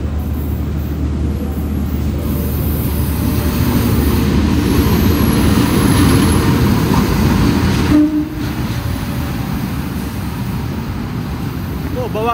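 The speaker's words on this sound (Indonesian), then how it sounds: "ini dia kereta api Blambangan Express masuk jalur 1" The Blambangan Express passenger train rolls into platform 1 at an Indonesian station with a loud, steady rumble of wheels and diesel engine, a thin high squeal, and a brief horn-like tone near the end.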